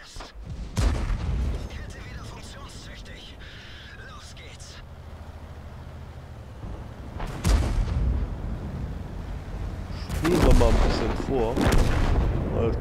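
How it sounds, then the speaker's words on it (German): Artillery shells land in the tank game World of Tanks, with heavy booming impacts at intervals, a loud blast near the start and more strikes later, while someone talks over the action. "jetzt hält natürlich die Arti hier voll rein."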